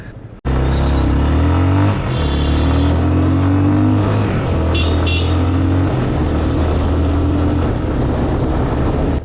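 A Yamaha FZ 25 250cc BS6 naked motorcycle riding through city traffic in Nagpur: a loud, steady engine drone starts abruptly and holds with slight pitch shifts as it is ridden, close and unbroken, with no voices.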